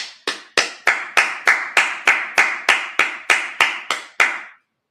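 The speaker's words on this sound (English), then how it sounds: "let's clap it up." A congregation at a Sabbath service claps in a steady, even rhythm, about fifteen sharp claps in unison, loud and close, before stopping abruptly.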